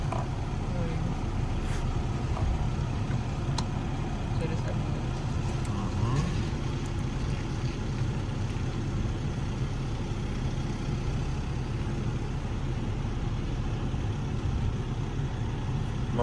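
A car creeps slowly around a driving practice lot, its engine a low steady rumble from inside the cabin, with muffled talk now and then.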